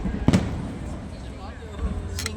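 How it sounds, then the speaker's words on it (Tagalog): Fireworks going off during a street food outing in Thailand, one sharp nearby pop followed by fainter crackles later, under the murmur of people talking. "Habang may fireworks."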